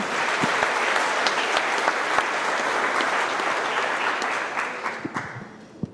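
An audience at a trucking company's monthly meeting applauds the Driver of the Month with sustained, dense clapping that holds steady for several seconds, then thins into a few scattered claps and a final lone clap.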